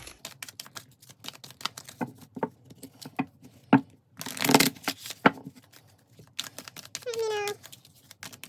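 Tarot cards being shuffled by hand during a card reading, quick soft riffling patters and light taps repeating in bursts, with a brief meow-like squeal near the end and quiet surroundings.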